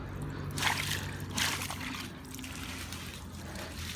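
Water trickles and splashes through a pool gutter runoff, close and soft, with a couple of brief louder gushes early on before settling into a quiet, steady dribble.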